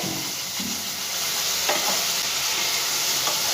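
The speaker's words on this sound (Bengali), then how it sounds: "খুব ভালো করে আমি মশলাটা ভেজে নেবো যতক্ষণ না তেলটা ছেড়ে দিচ্ছে মশলাটার থেকে।" Spice paste fries in hot oil in a pan while a spoon stirs it, giving a steady close sizzle with occasional scraping strokes and no talking.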